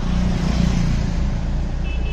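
Low steady rumble of a car driving toward Pocharam Wildlife Sanctuary in Medak, heard from inside as a continuous engine and road drone with a faint high tone near the end.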